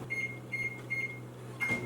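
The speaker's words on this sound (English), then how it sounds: "Alright, I'm gonna microwave the butter." A steady low hum of a running microwave oven melting butter, with a few soft high tones, ending in a brief rattle near the close.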